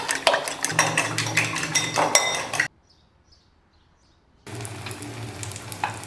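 Breakfast pieces fry in a pan and are turned one by one, soft sizzling with light clinks of a utensil against the pan, a silent gap in the middle, then the frying resumes.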